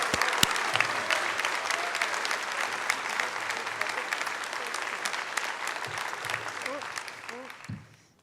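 Audience applause welcoming keynote speaker Dr Selina Tusitala Marsh at the LIANZA library conference in 2019, a steady dense clapping from a large crowd that holds for about eight seconds before tapering off.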